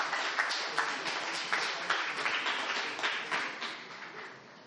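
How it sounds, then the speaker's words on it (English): Audience at a keynote event applauding steadily, a dense wash of many hands clapping at moderate distance, sustained without pause and without voices. "let's give a hand of applause to yourself being at the right place at the right time"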